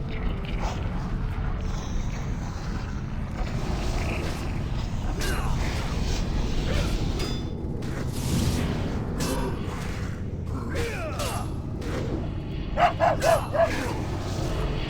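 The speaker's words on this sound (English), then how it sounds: "I don't know what that dog noise is, or if it just happens when I click on the dog, but I hate it." A pet dog in World of Warcraft: Wrath of the Lich King Classic, sounding off in a short run of four sharp, loud yips near the end, over a busy background of game sounds.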